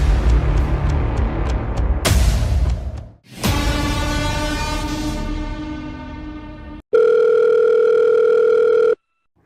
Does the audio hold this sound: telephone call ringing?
yes